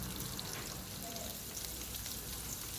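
Whole spices and onion roast in a hot pan with a steady, dense sizzle and crackle that holds evenly throughout, close by and fairly quiet, with no pauses.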